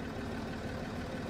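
A 3.2-litre Mitsubishi car engine from Farming Simulator 22 runs at a steady idle. The drone is continuous, fairly loud and even, with no voices.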